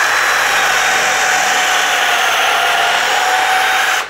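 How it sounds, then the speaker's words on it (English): A power drill runs loud and steady for about four seconds, boring pocket holes into wood with a harsh whirring grind before cutting off. "we're just going into the holes of the pockets and we're drilling through."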